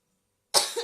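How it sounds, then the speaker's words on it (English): A single cough from an adult woman with allergies bursts out abruptly after a stretch of silence, close and fairly loud, trailing off into a rough, breathy tail. "pardon the coughing, I've had allergies all week"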